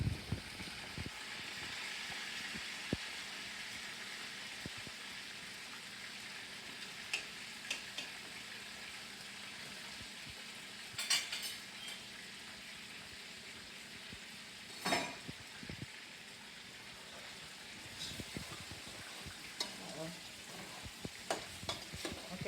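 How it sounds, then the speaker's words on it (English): Fish fries in a pan at an even, quiet sizzle while cooking seafood egusi soup, with a few scattered clicks and taps of utensils rising briefly above the hiss. "Fish is still frying."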